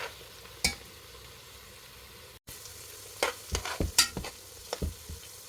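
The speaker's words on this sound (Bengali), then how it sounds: "এভাবে 2-3 মিনিট পেঁয়াজগুলোকে ভাজতে হবে।" Chopped onions fry in a pan for a mutton curry, giving a soft steady sizzle broken by sharp scraping clatters as they are stirred, with a cluster of spoon strokes in the second half.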